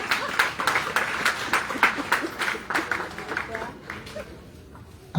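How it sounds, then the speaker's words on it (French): An audience at the opening event of a training institute claps, a dense spread of overlapping hand claps that fades gradually toward the end. "Applaudissez-moi."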